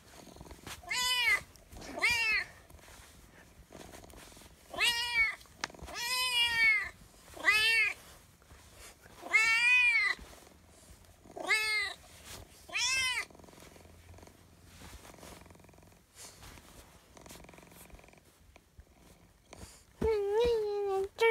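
A voice imitates a cat, giving about nine drawn-out, tonal meows in an uneven sequence with short pauses, fairly close and clear over quiet background.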